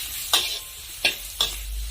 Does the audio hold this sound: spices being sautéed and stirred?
yes